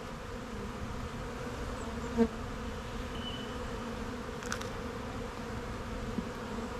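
Honeybees buzzing during a beehive inspection as brood frames are lifted out, a dense, steady drone close by with a few brief clicks.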